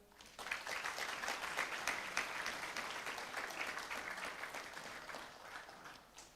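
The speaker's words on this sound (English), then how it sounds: "Please give applause to ma'am." At an Outlook seminar in Puducherry, a hall audience breaks into applause, a steady wash of many hands clapping that starts abruptly, holds evenly for several seconds, then tapers off.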